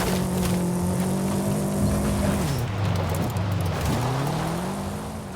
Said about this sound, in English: So I definitely will take this Subaru WRX. It's the fastest level 4.